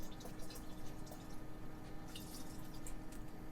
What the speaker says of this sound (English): Pour the rest that you haven't used back into your container.